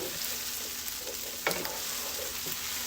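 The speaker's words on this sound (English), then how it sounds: "you're going to cook your onions until they're a little translucent." Onions frying in a pan as the base for Asian chicken with fried rice, a steady close sizzle with soft stirring scrapes and a brief louder clatter midway.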